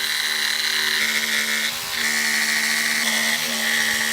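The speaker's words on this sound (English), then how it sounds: "now we're going to take our jigsaw and cut to the line." A jigsaw cuts wood at close range, its motor whining continuously with a brief dip in pitch as it bites through the material.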